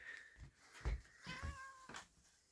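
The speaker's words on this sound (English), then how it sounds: "Oh, there's Kitty Cat." A cat meows a few times close by outdoors on a cold day, short soft calls separated by quiet gaps.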